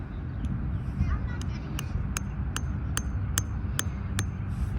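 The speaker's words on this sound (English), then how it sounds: "going to hammer a spike right in the center of that line" Sharp metallic strikes of a hammer driving a spike into the ground on a softball field ring out about ten times in a steady rhythm, growing more regular, over outdoor background noise.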